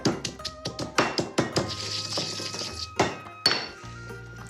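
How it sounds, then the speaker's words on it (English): Chilli, dried shrimp and sugar are pounded together into a paste. Quick, irregular knocks and dull thunks come close up, some with a light clink, in bursts separated by brief pauses. "I'm crushing the chilli, the shrimp, and the sugar all together to form a paste"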